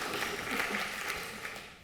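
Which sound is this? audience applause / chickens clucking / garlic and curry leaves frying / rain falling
audience applause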